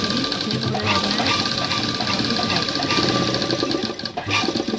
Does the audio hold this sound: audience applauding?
no